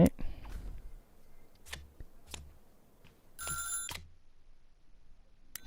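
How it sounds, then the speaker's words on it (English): A telephone rings in the workshop-management video game Little Big Workshop: short bursts of bright, trilling bell tone stand out amid soft game sounds and scattered clicks, with someone talking around them. "Phone's ringing."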